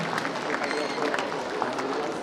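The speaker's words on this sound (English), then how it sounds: "Please clap for your children" Audience applause for schoolchildren at a girls' senior secondary school annual day, a steady even clatter of many hands held at one level throughout, with faint crowd murmur underneath.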